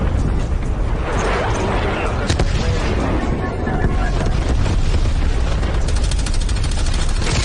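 Napalm strike explosions in Call of Duty: Black Ops Cold War, a dense rumbling roar of fiery blasts and crackling bursts that fills the whole stretch, with a voice speaking over it.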